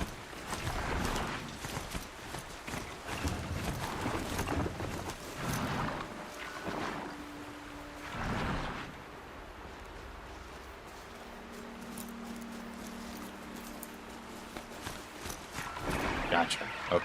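A horse's hooves clop unevenly during a video game ride as the rider struggles to control the mount, with intermittent thuds mixed under frequent talking and soft game sounds.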